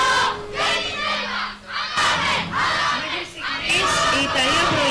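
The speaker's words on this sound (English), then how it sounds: "as we can hear, they are cheering up" A crowd at a youth sports event in Patras roars and shouts for the Italian team in loud surging bursts, wave after wave of cheering and battle cries with brief dips between.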